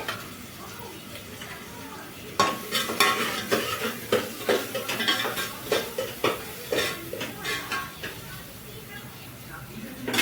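Onion paste and ginger-garlic paste frying in a pan, a steady sizzle broken by repeated scraping stirs and clinks of a spoon against the pan, close up, with a voice talking over it.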